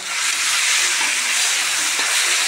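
Fish frying in fully heated oil produces a loud, dense, continuous hiss of sizzling close by, steady from start to finish with no talk.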